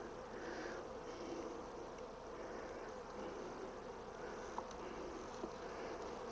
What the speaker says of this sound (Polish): I cóż, pszczoły wciąż się rozbudowują.